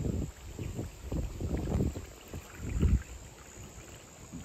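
Gusty wind outdoors at a dam buffets the microphone in low, rumbling surges that rise and fall, with one stronger gust near the end.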